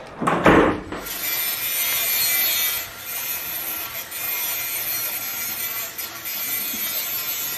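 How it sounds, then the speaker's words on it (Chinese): A saw rasps steadily through a skull model, a sharp strike at the start followed by continuous close, gritty strokes with brief dips, and no talking. "高主任，你说咱们费了半天的劲，做出来了个整形，为什么还要切缝打孔啊？"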